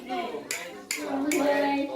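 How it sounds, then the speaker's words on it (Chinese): Children clapping on a school field trip, short bursts of applause in two quick rounds with young voices chattering over them. "给他鼓掌，太棒了啊"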